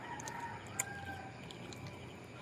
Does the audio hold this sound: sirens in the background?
no